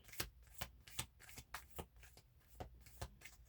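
Tarot cards are shuffled in a quiet room, a run of soft riffling bursts coming in an uneven rhythm, close and faint, with no talking.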